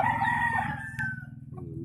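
A rooster on a rural poultry farm in the province crows once, close and loud, with a drawn-out wavering call that fades at the end.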